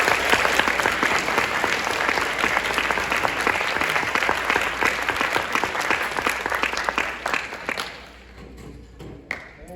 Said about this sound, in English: Everyone, round of applause for All County Jazz.